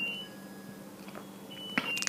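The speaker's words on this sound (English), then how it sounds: "if you heard that, that was my dishwasher going off" A few faint electronic beeps from a dishwasher sound at a distance in a quiet room, followed by a sudden louder knock at the end.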